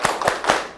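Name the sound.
rhythmic group clapping, 'tepuk semangat' clap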